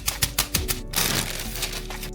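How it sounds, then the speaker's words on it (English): A meat tenderizer pounds chicken breasts covered in plastic wrap or wax paper, giving a quick run of sharp, close thumps followed by a rougher, continuous rustling stretch. "use a tenderizer to flatten your chicken breasts so that they can cook evenly"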